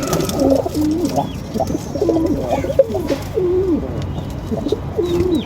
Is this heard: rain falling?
no